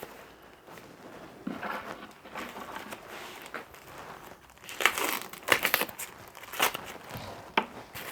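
Polystyrene packaging being pulled off a stainless steel two-burner forge, producing irregular crinkling, creaking and rustling bursts up close, growing busier and louder in the second half.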